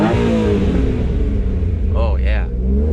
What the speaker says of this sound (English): I'm gonna do some revs.